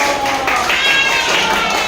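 Applause in a classroom for a group of pupils presenting on mosquitoes: steady, dense clapping with bright, busy texture and children's voices mixed in throughout.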